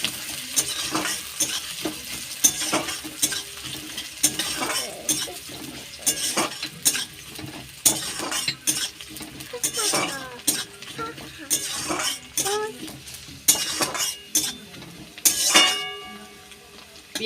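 Chopped onion fries in oil in a pan with a bay leaf, sizzling steadily while a spoon stirs it in frequent clattering, scraping strokes close by.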